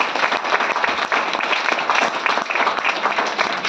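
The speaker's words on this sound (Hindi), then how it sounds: "जबरदस्त तालियां चाहूंगा सोनम मैम के लिए।" A crowd breaks into dense, sustained applause, many hands clapping at once in a steady roar.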